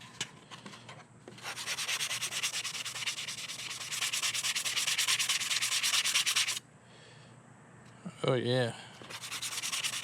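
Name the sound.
small Gator Fine sander sanding primered 3D-printed mask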